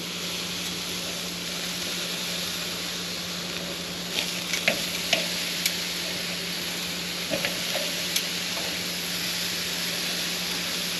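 Coffee-rubbed ribeye steaks sizzle on a grill with a dense, even crackling hiss throughout, broken by a few light clicks and pops midway.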